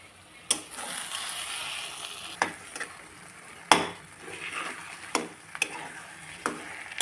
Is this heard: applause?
no